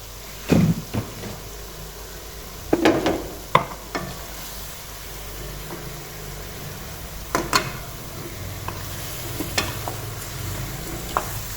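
Chicken karahi with salt, turmeric and crushed chilli stirred in a pan, with a faint sizzle underneath and several sharp scraping spoon strokes spaced apart.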